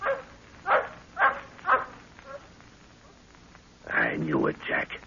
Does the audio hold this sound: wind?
no